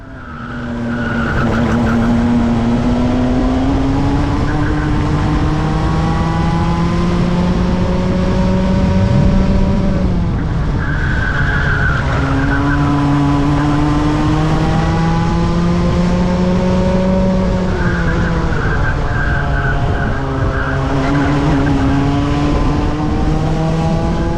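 A Club100 racing kart runs flat out at Ellough Park, its engine a loud, steady high-pitched drone that rises and dips with each gear-free surge, tyres scrubbing through the infield with no pauses.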